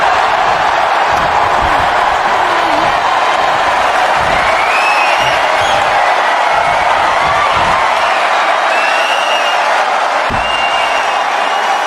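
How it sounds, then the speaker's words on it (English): Arena crowd noise in the WWE 2K25 wrestling video game during a SmackDowns match, a loud, continuous roar of cheering with occasional whistles and thuds from the ring. "And the crowd is cheering for Jade and Bianca here tonight."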